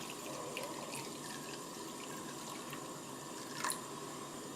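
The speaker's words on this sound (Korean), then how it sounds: "살짝 볶은 다음에 물을 붓겠습니다. 육수를 만드는 거예요." Water pours steadily into a pot over lightly seared meat and garlic to start a broth for braised short ribs, a soft continuous trickling wash with a brief louder splash near the end and no talking.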